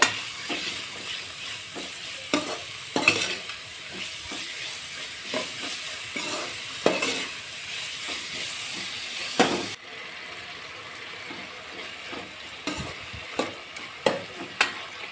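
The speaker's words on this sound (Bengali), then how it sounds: "এখন ভালো করে মিক্স করে নেব এগুলো নাড়িয়ে নেবো" Tomatoes with turmeric, chili powder, Maggi masala and salt are stirred in a hot pan, soft sizzle beneath repeated scraping strokes of a spoon, no talk.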